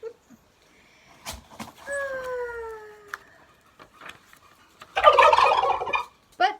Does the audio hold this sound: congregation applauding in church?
no